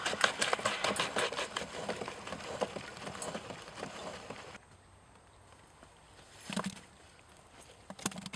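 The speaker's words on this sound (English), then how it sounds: "they can be run through the grinder, being sure to catch the ground product" An apple grinder chews through fresh apples for hard cider with a fast, rhythmic clattering churn for several seconds, then drops away to quiet before a couple of scattered knocks.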